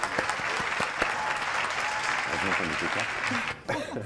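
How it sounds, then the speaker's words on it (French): A television studio audience applauds steadily, broad dense clapping with voices talking over it near the end. "Bon, applaudissements"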